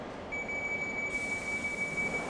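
A London Underground Jubilee line train hums and rumbles steadily, with a thin high whine running through it, no speech.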